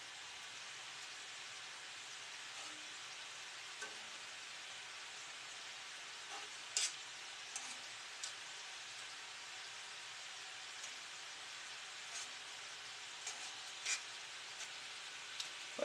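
Blackened shrimp cooking in a pan give off a steady, soft hiss like light rain, with scattered faint pops and crackles over a long stretch and no voices.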